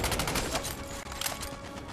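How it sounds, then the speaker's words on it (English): Rapid overlapping gunfire from a tank in the World War II shooter Medal of Honor, a dense loud barrage of sharp cracks with steady background rumble. "Oh, it's a tank! Fuck, that's what's shooting me."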